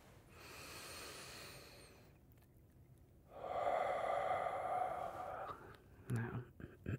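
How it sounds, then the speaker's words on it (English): A slow, calming breath in and then out, soft and close in a quiet room, a long airy inhale followed by a fuller, breathier exhale. "Take another calming breath together."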